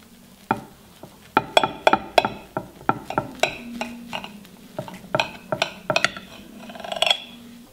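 A knife knocks and scrapes against a pan, cutting up a finished lazy pan-fried dish in a home kitchen. Sharp clinks and taps come in irregular bursts, close and fairly loud, with no talking.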